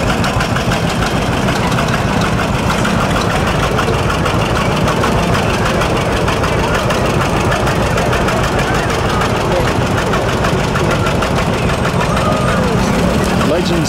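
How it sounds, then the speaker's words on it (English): John Deere tractors idling as they roll by in a hometown festival parade, a continuous heavy low engine rumble with knocking texture, loud and steady throughout. "Albany FFA alumni showing off some of their beautiful John Deere tractors"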